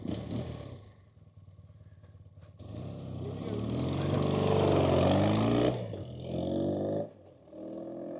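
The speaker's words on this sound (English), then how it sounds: "Johan is going to start up this Beautiful BMW. yes, the R100S 1979." Engine of a 1979 BMW R100S boxer motorcycle, turning over and then roaring up in a loud rising rev that dies back to a rougher idle, with someone talking over the start.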